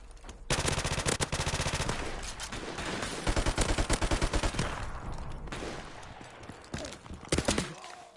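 Rapid bursts of gunfire from shotguns in Modern Warfare Remastered, a dense loud barrage of shots and a few clustered blasts near the end, with little else audible.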